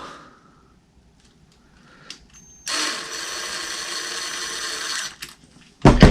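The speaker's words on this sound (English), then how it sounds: "Then you can put your 4 screws in." Power tool driving screws into an RC car's sun gear: a faint short buzz, then a loud sustained high-pitched whir for about two seconds, and another burst at the end, close up with no talking.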